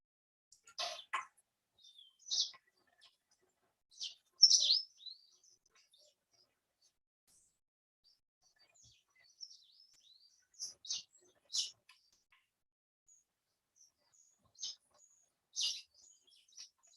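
Small yellow songbirds kept with other birds in an aviary, giving short, high chirps and tweets at irregular intervals with quiet gaps between, clear and fairly close.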